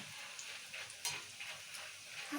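Roasted gram sizzles in hot oil for a flattened rice mixture snack, a close steady frying crackle with light stirring scrapes and a brief louder clatter partway through.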